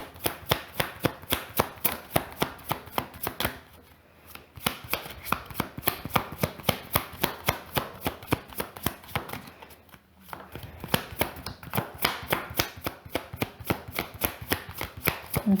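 A deck of tarot cards being shuffled: a long, quick run of crisp, regular card snaps and taps, close and fairly loud, with two brief pauses and no talking.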